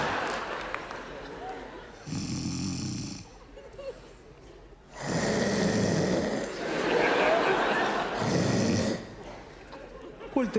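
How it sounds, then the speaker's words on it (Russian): A person snores loudly in a stage comedy sketch, several long rasping snores in a slow rhythm with pauses between, and laughter and talk from the audience in the background. "ты что, храпишь, что ли?"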